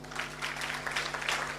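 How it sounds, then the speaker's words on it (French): Brief audience applause, a dense patter of clapping over a steady low hum. "applaudissez pour lui"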